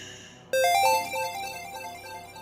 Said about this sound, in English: we got 2 different notification sounds